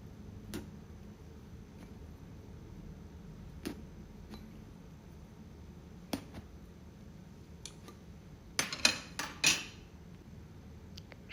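A fork pricks holes into a large black eggplant before roasting, giving a few light, quiet metallic clicks and taps clustered near the end over a faint kitchen background, with no talking.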